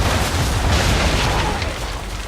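A ship's cannon broadside in Assassin's Creed 3, a loud, dense rumbling blast of guns firing together, booming and sustained without speech.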